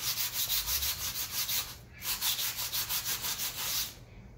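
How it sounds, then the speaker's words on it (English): A sheet of 120 grit sandpaper is worked by hand along the edge of a tractor tire rim before the tire bead is sealed and seated. The strokes are close, rhythmic and back-and-forth, with a brief pause midway and no talking. "I picked up some random sandpaper. It's 120 grit. And I'm just going to try to get all the edge."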